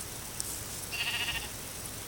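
A short Minecraft sheep bleat rises and fades over a low background hum.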